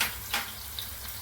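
Chopped onion sautéing in a pan for traditional masala onion kurdai gives a faint, steady sizzle with a few soft crackling pops, quiet and close, with no talking over it.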